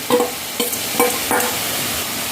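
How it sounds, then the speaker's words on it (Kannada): A spoon stirs grated coconut and chili mixture into cooked greens in a pan over high heat for Kerala-style chatti choru, with a few scraping strokes over a steady soft sizzle. "ಒಳ್ಳೆ ರೀತಿ ಮಿಕ್ಸ್ ಮಾಡಿಕೊಳ್ಳಿ"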